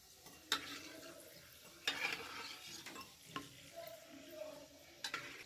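Gram flour roasting in a pan, stirred with several distinct scraping knocks against the pan over a soft, continuous sizzle, fairly quiet and close.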